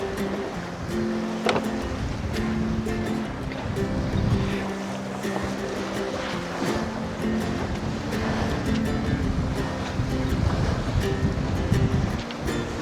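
A gust of wind blowing across a sailboat under way with one person at the helm, a steady rushing wind and microphone buffeting over the slap and wash of waves against the hull.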